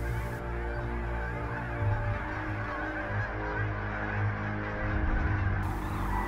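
A large flock of geese honks continuously at a Texas feeding area, a dense overlapping chorus of calls that stays loud and steady throughout.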